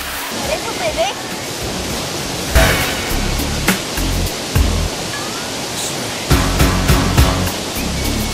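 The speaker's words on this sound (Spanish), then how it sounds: "Este es el río." A river flows in a steady, broad rushing roar like a waterfall or rapids, loud and close throughout, with occasional thumps and handling noise from the recording over the water.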